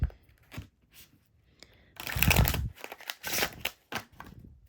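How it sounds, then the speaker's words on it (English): Tarot cards being shuffled in a few quick bursts of papery riffling and crackle, close up, separated by short quiet gaps. "I'll shuffle one more time."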